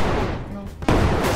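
A single heavy booming shot from a cannon in the game Brick Rigs, fired at buildings, a sharp blast followed by a dense rumbling roar, with muffled game noise before it.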